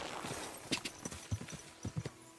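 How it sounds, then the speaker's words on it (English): Horse hooves clip-clop in an irregular walking rhythm in the medieval role-playing game Kingdom Come: Deliverance II, moderately close over a soft outdoor ambience. "Okay, I've got a new horse."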